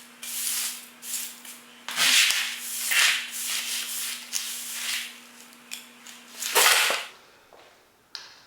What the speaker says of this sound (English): So now it's really just sweep up and clean up